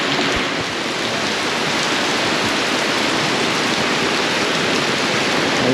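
Heavy rain pours steadily on a car and camping setup, a loud, constant hiss of drops drumming on surfaces with no voices heard.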